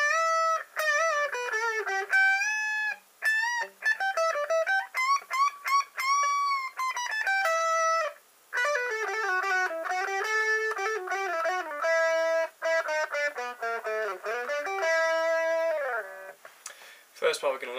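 Electric guitar plays the intro solo of a song, with bent, sustained lead notes and quick runs, clear and alone with no talking.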